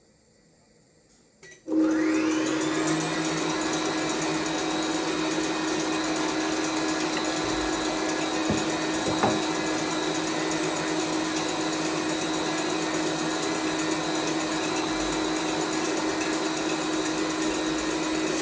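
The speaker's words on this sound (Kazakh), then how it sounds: "4 скоростқа қоямын, белогымды қосамын және араластырамын." An electric mixer whips egg whites with sugar for lily- and peony-juice marshmallow, switching on after a brief quiet and then running as a loud, steady, close whir for the rest of the clip.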